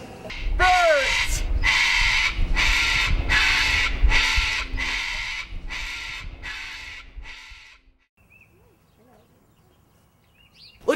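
Crows caw loudly and close by, about eight harsh calls in a steady rhythm, followed by a quiet stretch with faint chirps.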